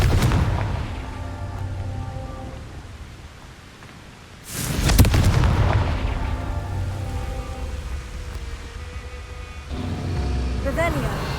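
The Confringo fire spell bursts in the Hogwarts video game as a sudden loud, close blast that rumbles and fades under ongoing game ambience, with a voice heard in the game.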